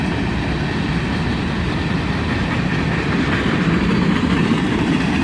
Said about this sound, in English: it's the CSX hopper train with the non-standard open hop toppers